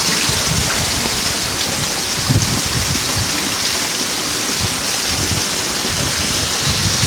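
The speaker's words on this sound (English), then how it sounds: "Whole bunch of rain" Heavy rain pours down in a dense, constant roar, loud and close, with occasional thicker splashes and no voices.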